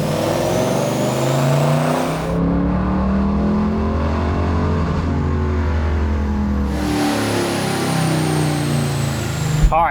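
Loud, sustained engine roar from a Nissan GT-R on a dyno, the pitch building steadily through the run and then falling away as the throttle closes.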